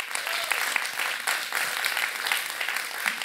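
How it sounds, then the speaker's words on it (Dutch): An audience applauds warmly at a Dutch leadership event, welcoming a theatre and dance academy director; steady dense clapping fills the whole stretch with no talk over it. "Mag ik een hartelijk applaus?"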